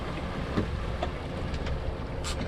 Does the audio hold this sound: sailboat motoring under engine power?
yes